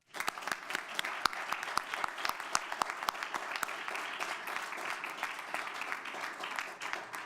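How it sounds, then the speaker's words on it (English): Audience at a school district board meeting applauds steadily for a student honored by the Riverside High School National Honor Society, with fairly soft, even clapping throughout. "Let's give her a round of applause."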